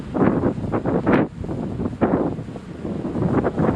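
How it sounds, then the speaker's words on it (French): Gusty wind buffets the microphone outdoors at an apiary during a beehive inspection, rising and falling in several rough bursts with no one speaking. "c'est vrai qu'il y a du vent"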